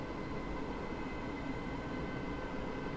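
A Great Northern Class 313 electric train in Train Sim World 2021 rumbles steadily along with broadband rolling noise, heard close and continuous without any voices.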